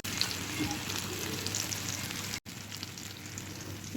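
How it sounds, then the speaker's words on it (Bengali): Hilsa fish fries in a pan with a steady, dense close sizzle and crackle that runs throughout, briefly cut off for an instant partway through. "ইলিশ মাছগুলো এখন আমি ভেজে নিচ্ছি"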